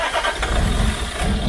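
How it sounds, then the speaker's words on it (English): A freshly rebuilt car engine catches and runs, a loud, rough, continuous low rumble close by with an uneven, slightly irregular beat. "The engine is running!"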